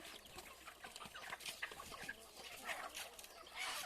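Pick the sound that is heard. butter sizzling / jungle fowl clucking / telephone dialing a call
jungle fowl clucking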